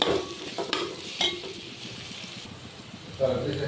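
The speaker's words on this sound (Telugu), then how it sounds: "అల్లం వెల్లుల్లి పేస్ట్ ఇది పచ్చివాసన పోయే వరకు వేపుకున్నాము" Ginger garlic paste sizzling in a hot pan, with quiet frying hiss under brief scrapes and clinks of a spoon stirring, heard up close.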